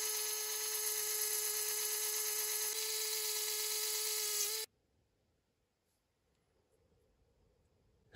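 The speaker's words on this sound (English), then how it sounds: "I think I'm going to drill it so I can put it on a little spindle" A small electric drill whines steadily at high pitch for several seconds, then cuts off abruptly into near silence.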